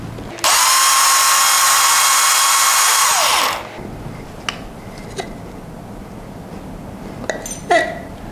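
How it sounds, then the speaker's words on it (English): Electric blender grinding dried moringa leaves, a loud high whirring motor running steadily for about three seconds, then winding down, followed by light clinks and taps of handling. "blend them until smooth"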